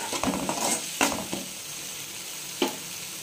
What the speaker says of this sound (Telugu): సిమ్లో పెట్టుకొని ఫ్రై చేసుకోండి